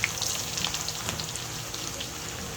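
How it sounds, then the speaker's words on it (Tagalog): Garlic sautéing in rendered pork fat for a Leyte-style fried shrimp paste, a steady close sizzle with scattered crackles and pops, no talking. "Ayan, mag-start na tayong mag-gisa. Bawang muna."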